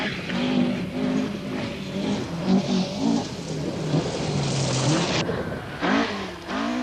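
A Vauxhall Chevette rally car racing on a stage, its engine rising and falling through revs and gear changes, loud and close, with a sharp burst of noise near the end.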